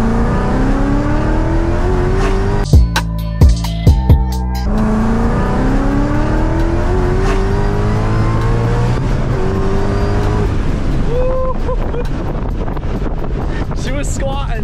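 A 900-horsepower V8 Mustang running a stock MT82 manual transmission accelerates hard, its loud, rising engine note climbing steadily through the revs, with wind buffeting the microphone throughout and a brief clatter partway through.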